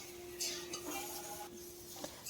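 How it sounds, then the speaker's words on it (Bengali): Potato pieces and drumsticks being stirred in a kadai with a metal spatula, soft scraping and clinks against the pan over a faint, quiet sizzle; no talking. "এখন 2 মিনিট আবারও আলু আর এই সজনের ডাঁটাকে ভেজে নিতে হবে।"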